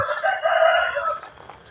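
A rooster crows once at Wat Pong Chai, a Buddhist temple in Chae Hom, Lampang, with a clear, fairly close, drawn-out call of about a second that fades into quiet outdoor background.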